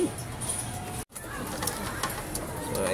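A pigeon coos softly nearby, low throaty calls repeating against a quiet outdoor background, with a brief dropout partway through.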